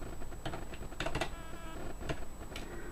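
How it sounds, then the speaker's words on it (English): Keys pressed on a USB computer keyboard, a few scattered clacks and short bursts of quick taps over a steady background hum, close with no talking. "if I press things on the keyboard, you can see I can go into the different menus and things"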